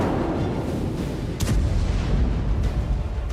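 Bombing explosions in Gaza thump as deep, rumbling booms, with sharper blasts standing out amid a continuous low, distant roar and no speech.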